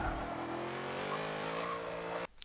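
A GT300 race car engine in a video game at Bathurst drones loud and steady at high revs, pulling hard through a gear near the rev limiter before cutting off abruptly at the end.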